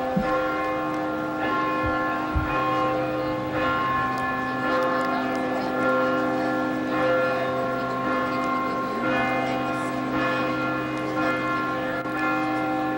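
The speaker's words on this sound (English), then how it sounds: "the steeple of Memorial Church, the repository of these rather large bells" Large church bells in the steeple of Harvard's Memorial Church ring continuously during a commencement procession, rich overlapping tones forming a sustained metallic peal that fills the space at a steady loudness.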